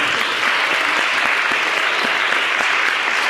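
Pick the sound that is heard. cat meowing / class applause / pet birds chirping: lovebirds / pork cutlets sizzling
class applause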